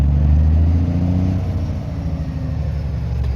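A car engine with a failing fuel pump hums low and steady, its tone shifting slightly as it slowly gathers revs, close and alone without talk.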